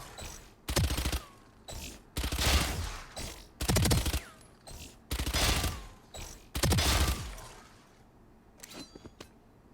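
Spectre submachine gun fire in Valorant aim training comes as six loud, close bursts of rapid automatic shots separated by short gaps, then goes quiet.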